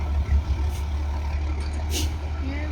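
A bus idles nearby with a low engine rumble while short bursts of air hiss and clunks mark it shifting into reverse and starting to back up.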